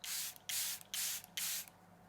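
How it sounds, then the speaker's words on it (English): Makeup setting spray is misted over a powdered face, four quick hissing pumps of fine spray in an even rhythm, close and clear with no talking. "apply another layer of this setting spray, and this is going to melt all the powder"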